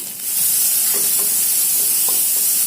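Tomatoes with cumin powder fry in a pan, a loud, close, continuous hiss of sizzling with a few soft stirring scrapes.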